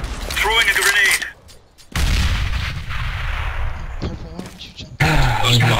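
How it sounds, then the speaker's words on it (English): A grenade is thrown during a round of CS:GO, with loud broadband bursts like blasts and gunfire, a brief near-silent gap, then more heavy booming combat noise, with a voice mixed in. "throwing a grenade"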